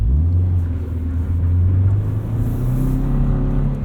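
A lifted safari-style 2022 Subaru BRZ driving on the road, heard from inside as a loud, steady low engine drone and road rumble with a slowly rising tone as it gains speed.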